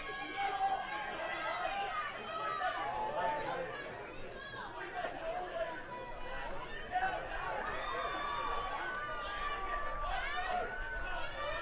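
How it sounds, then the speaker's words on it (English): At a Class C state tournament baseball game, the Young America crowd heckles the batter with a steady babble of shouts and chatter from the stands, while a commentator talks over it. "the crowd for Young America is giving it to Ryan Fregis"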